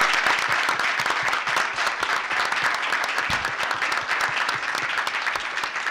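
A crowd claps at a village board meeting, with dense, steady applause of many hands that fills the whole stretch and is moderately loud in an indoor room.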